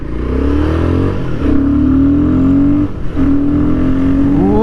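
A Royal Enfield Guerrilla 450 motorcycle engine revs up hard and close in first gear, pitch climbing steadily, dipping briefly at gear changes, then rising again in a loud continuous whine.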